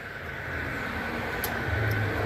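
Holiday road traffic on Thanksgiving hums steadily in the background, a constant distant rumble of cars that swells slightly near the end, with no voices.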